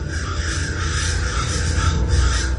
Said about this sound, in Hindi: वही कौवे थे जिन्हें अभी अभी सपने में उसने देखा था